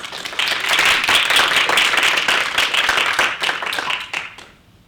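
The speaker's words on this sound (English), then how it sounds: "A round of applause for Christopher, please." An audience claps and applauds steadily for several seconds, dense and lively, then the applause tapers off and fades out.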